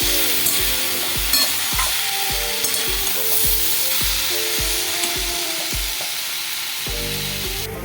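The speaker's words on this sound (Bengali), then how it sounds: "ভালো করে মিশিয়ে নেবো কড়াতে সবজিগুলোর সঙ্গে মশলাটা" Vegetables and spices are stirred in a hot wok (kadai) for a Bengali potato and drumstick dish, a rhythmic series of spatula scrapes repeating about every half second over a constant loud sizzle.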